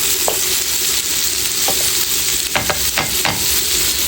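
Chicken pieces frying with powdered spice masala in a pan, a steady loud sizzle broken by several sharp scraping stirs near the end.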